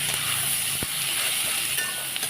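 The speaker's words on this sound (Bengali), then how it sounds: "এখন ব্রাউন কালার করে ভেজে নেব পেঁয়াজটা" Sliced onion with salt browns in a hot pan, giving off a steady, bright sizzle and hiss with a few soft stirring knocks, and no talking.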